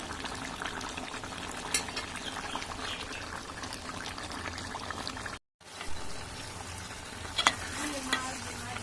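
Meat and potato curry bubbling hard in a pot over a high gas flame, a dense continuous sizzle and boil up close with a few small clinks and a brief dropout midway.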